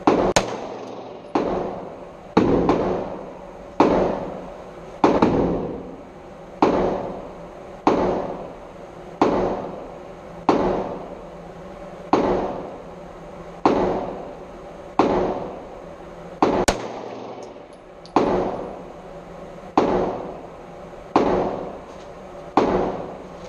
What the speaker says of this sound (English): First time shooting.